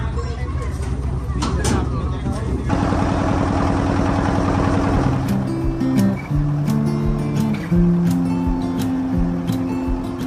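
A fishing trawler engine idles with a steady low rumble while people talk and move around on board, in the Sundarbans.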